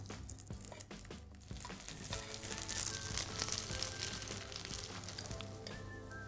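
Slices of chilled polenta sizzle as they brown in a hot pan, a steady close crackle of frying with small spits and pops, alone without talk.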